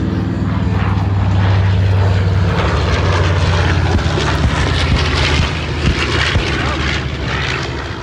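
A B-25 bomber departs with a loud, sustained propeller-engine roar, a low droning rumble that stays strong throughout and fades slightly toward the end.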